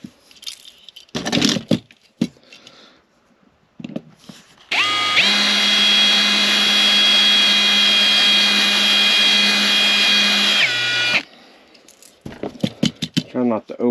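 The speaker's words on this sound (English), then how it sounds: "Trying just to get that head drilled out." A power drill drills out a rivet head on a diecast model car, a steady high whine lasting about six seconds. Before and after it come clinks and rattles of handling, and someone talks.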